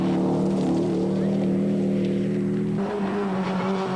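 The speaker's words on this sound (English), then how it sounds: "Berger and Swanepoel were soldiering on in their N4 Subaru Impreza." N4 Subaru Impreza rally car on a special stage of a rally: a steady, loud engine drone with a sustained tonal whine that shifts pitch abruptly partway through, as if changing gear, and no voices.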